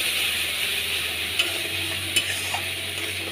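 Steady sizzle of a spice mix with cumin and bay leaf frying in a pan, a bright continuous hiss broken by a few light scrapes of stirring, close and with no talk.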